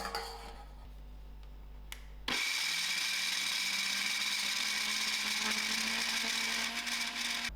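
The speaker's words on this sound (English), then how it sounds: "I'm going to pop it into the blender" A blender kicks on abruptly and runs steadily with a loud whirring roar, its motor pitch rising slightly as it churns cooked butternut squash.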